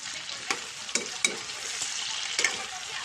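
Pork frying without oil in a pan gives a steady broadband sizzle, punctuated by a few sharp clacks of a spoon stirring against the metal, close and moderately loud throughout.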